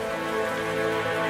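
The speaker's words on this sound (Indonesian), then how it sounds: "Lalu turunlah hujan yang lebat." Heavy rain falls in a constant, dense hiss of drops, blended with a sustained, tonal musical drone.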